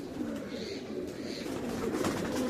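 Homing pigeons arriving back at the loft and landing after a 17-kilometre toss, soft cooing and fluttering over a steady outdoor background, faint and close-ish.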